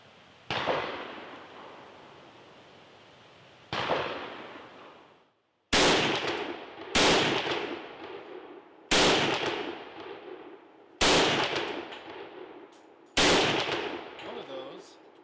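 Seven sharp, loud rifle shots from a WWII Gewehr 41 ring out at uneven intervals, each with a long echoing decay, two widely spaced and then five in quicker succession.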